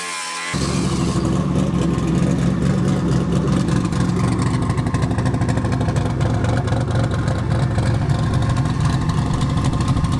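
Twin turbo V8 car with a modified, pie-cut exhaust pulling away: a loud continuous rumbling engine drone that starts abruptly and holds for about ten seconds, close by.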